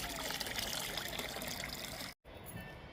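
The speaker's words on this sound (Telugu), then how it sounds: "ఇచ్చేద్దామండి ఈ లిక్విడ్ని. మంచి పోషకాలు, ప్రోటీన్లు ఉన్న ఈ లిక్విడ్ని ఇండోర్ ప్లాంట్స్కి ఇచ్చేద్దాము." Mung bean soaking water pours steadily into indoor plant pots in a continuous close trickle, briefly cut off near the end before resuming softly.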